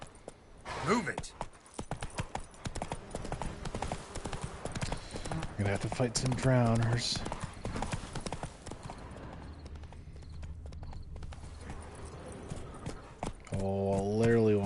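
Horse hooves clip-clop in rhythmic steps on the ground in the video game Witcher 3, close and clear, while someone talks over much of it and game music and effects play alongside.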